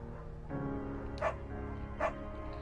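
Beagle dog in the video game Firewatch giving two short barks about a second apart over a steady ambient game soundtrack, fairly quiet in the mix.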